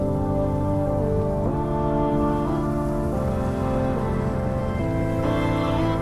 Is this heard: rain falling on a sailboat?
yes